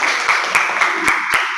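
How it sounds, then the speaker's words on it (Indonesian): Short burst of classroom applause for a student group, a steady patter of many hands with a few sharper claps standing out, fairly close. "tepuk tangan dulu buat kelompok 3"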